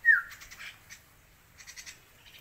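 A white starling (jalak putih) gives a short, sharp call close by, followed by quieter raspy chattering notes in two brief bursts against a quiet background.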